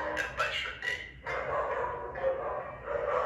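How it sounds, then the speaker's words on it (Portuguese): A pet dog barks several times somewhere nearby in a home, short yips and barks under someone talking over music. "a minha cachorra lá tá latindo"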